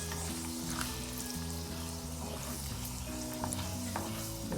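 Urad dal and mustard seeds fry in hot oil for upma, a close, loud, steady sizzle with crackling pops and some stirring, with no voices.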